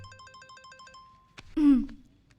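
A telephone rings in a Hindi-dubbed South Indian romantic action film, a repeated electronic trill pulsing in short bursts for about a second, then a sharp click and a brief rising squeal.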